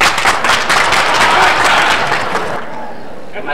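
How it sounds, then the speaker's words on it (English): Audience at a high school senior show clapping in a dense burst of applause, loud and sustained before tapering off near the end, with voices mixed in. "Let's all clap that she wasn't here that day."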